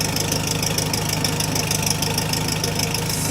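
A VW Beetle fitted with a Vintage Speed Sebring exhaust idles steadily, a close, loud, even low rumble with a fast regular pulsing beat and no talk.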